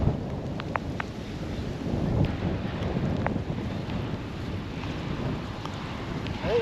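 Steady gusting wind buffets the microphone beside the Sacramento River during a fishing outing, a loud broadband rush with no speech.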